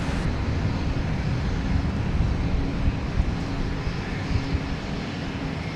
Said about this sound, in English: So I think we have an Embraer Praetor.